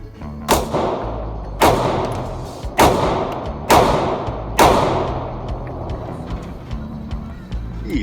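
Five sharp pistol shots from SIG P365 and Springfield Hellcat subcompact pistols ring out at an outdoor range, spaced about a second apart, each loud crack trailing into a short echo with no talking.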